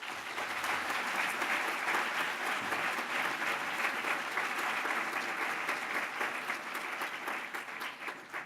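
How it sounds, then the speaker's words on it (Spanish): A conference audience at a Mexican financial congress breaks into dense, sustained applause welcoming a speaker onstage, many hands clapping steadily for several seconds before it begins to thin. "recibamos con un fuerte aplauso"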